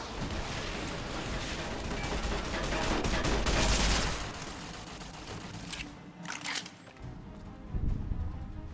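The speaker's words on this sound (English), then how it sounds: "they got Gatling lasers" Robots fire Gatling lasers in Fallout New Vegas, a dense, sustained rattle of rapid energy-weapon shots that swells loud, then breaks into scattered bursts and sharp zaps amid game effects.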